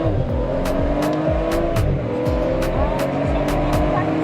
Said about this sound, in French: Trop de voitures ici là.